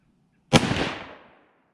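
A single sharp gunshot from a Winchester 30-30 Model 94 lever-action rifle, loud and close, with a sudden crack followed by a decaying echo tail.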